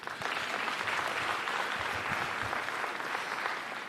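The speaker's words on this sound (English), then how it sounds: "Another round of applause, please." Audience applause fills the room, a continuous wash of many people clapping at steady volume throughout, with no voices on top.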